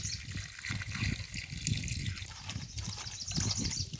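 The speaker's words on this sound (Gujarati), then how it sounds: "પાણીમાં ધોવાના છે તો મોટા વાસણ નાખી દઈશું પાણી" Water splashes and gurgles into a large vessel for washing kantola gourds, with uneven sloshing and trickling close by and no talking.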